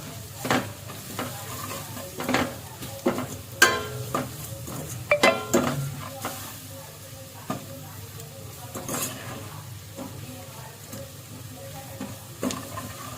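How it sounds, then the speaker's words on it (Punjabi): Spices for dry aloo matar sabzi, garam masala, coriander powder and roasted cumin powder, being roasted and stirred in a pan, with steady soft sizzling and irregular scraping strokes throughout, moderately close. "ਆਪਾਂ ਇਹਨਾਂ ਨੂੰ ਥੋੜਾ ਜਿਹਾ ਭੁੰਨ ਲਵਾਂਗੇ ਮਸਾਲਿਆਂ ਨੂੰ"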